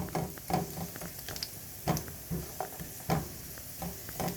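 Raisins and cashews frying in a hot pan for fried rice, with soft crackling sizzle and stirring scrapes recurring in a steady rhythm, close and moderately loud.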